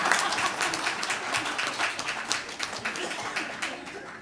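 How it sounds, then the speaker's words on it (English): Steady applause from a conference audience, many hands clapping together in a dense, continuous patter that holds for several seconds without talk. "It is here that you were supposed to clap"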